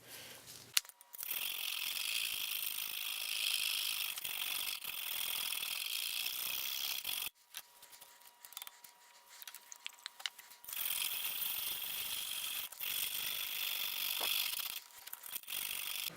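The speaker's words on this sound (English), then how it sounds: "So let's just keep on sharpening." A knife blade is drawn repeatedly across an oiled sharpening stone, making steady, close scraping strokes. The strokes break off briefly midway, then resume just as evenly.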